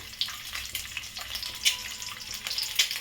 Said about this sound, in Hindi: अच्छी तरह पहले फ्राई कर लेती हूँ